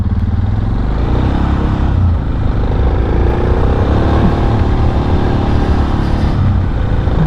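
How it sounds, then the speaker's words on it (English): A carbureted Suzuki DR motorcycle engine runs close by at a steady, loud idle, a constant rough drone with light mechanical clatter throughout. "Such a good motorcycle, and it's so simple."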